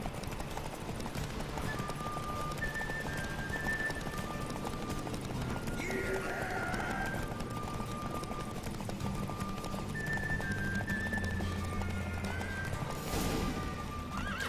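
Horse in The Witcher 3 cantering, a steady clip-clop of hooves running throughout with a neigh and whinny partway through, close and clear, with faint talk underneath.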